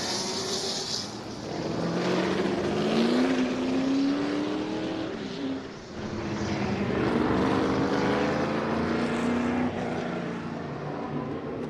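A turbine IndyCar passes on a race course at the American Speed Festival, a loud rising and falling whooshing whine sweeping by over about ten seconds, heard without talking.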